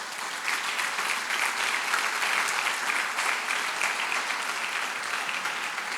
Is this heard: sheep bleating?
no